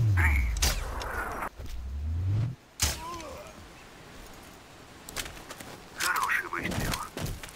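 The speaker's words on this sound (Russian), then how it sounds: "Хороший выстрел." A sniper rifle shot in the Sniper Ghost Warrior game cracks sharply once, a loud, abrupt report followed by quieter ambience, with voices speaking before and after.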